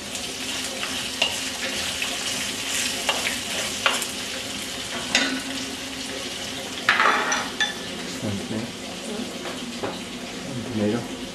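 Tomatoes frying in a pan with browned onions for a Malaysian curry, giving a steady close sizzle broken by occasional stirring scrapes and clinks.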